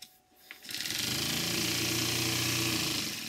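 A Stuart Models 10H model steam engine runs fast on compressed air once the flywheel is released. It spins up within a second into a loud, steady, rapid mechanical buzz that holds close and constant.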